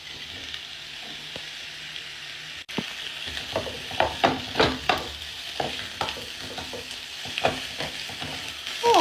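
A spiced filling of cumin, paprika, coriander, ginger, salt and garlic fries in a pan, a steady close sizzle with repeated scraping stirs and spatula knocks building after a brief quiet start.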